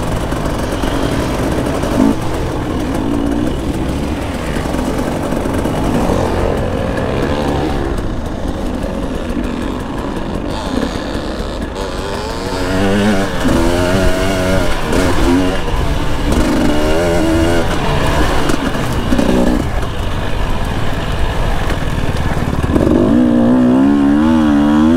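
Motocross and enduro motorcycles ride a winter sand track, engines buzzing and revving continuously at close range, rising and falling as the bikes accelerate, with the roar building louder in the second half.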